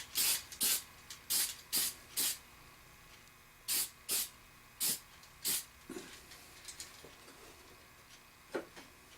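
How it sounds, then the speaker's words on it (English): Short bursts of a spray paint can hissing, about ten quick sprays in uneven rhythm with brief pauses, close and fairly loud, during a patch panel repair on a 1983 Honda Civic. "take regular spray paint and just paint it"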